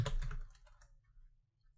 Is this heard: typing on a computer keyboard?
yes